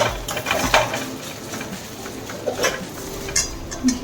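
A spatula stirs and scrapes fried coconut around a pan in a home kitchen, with a few clinking strokes and soft patter repeating irregularly at close range, and no voices.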